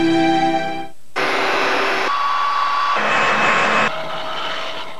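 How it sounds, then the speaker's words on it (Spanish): A Rowenta Lisima Ceramic hair dryer with ceramic plates running loud and close, a steady airy whoosh that shifts level and pitch several times in blocks, as if switched between settings. "El secador que alisa el pelo, ahora alisa mucho más"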